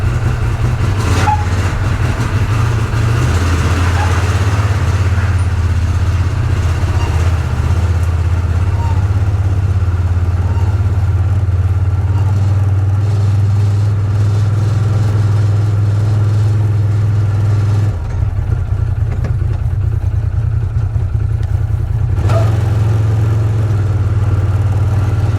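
A car engine idles steadily while cold, warming up with a constant low rumble and hum that stays near and loud throughout, with a brief change in tone partway through.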